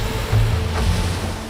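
Choppy ocean waves churning around the rocky pinnacles of Gordon Rocks in the Galapagos, a loud, close, continuous rumble of surf and wind with no voices.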